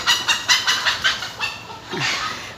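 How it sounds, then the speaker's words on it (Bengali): Chickens perched in a jujube tree in a garden give a run of short, evenly spaced clucking calls, moderately close, ending with a rising squawk-like call. "এটা দেখেন বড়ই গাছে কত মুরগি উঠে আছে"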